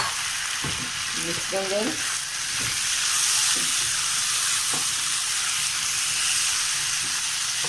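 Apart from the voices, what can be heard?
tomatoes frying with golden brown onions in a pan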